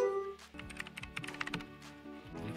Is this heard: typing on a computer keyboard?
yes